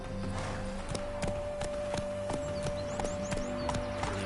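A horse galloping in the video game The Witcher 3, a quick regular clip-clop of hooves continuing steadily over a low ambient hum, with no talking.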